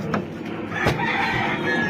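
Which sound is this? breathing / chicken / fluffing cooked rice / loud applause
chicken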